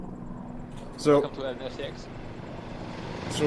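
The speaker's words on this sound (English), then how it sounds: "That is a helicopter in the middle of my speech." A helicopter flies overhead, its steady low engine drone running beneath a man's speech that briefly rises above it.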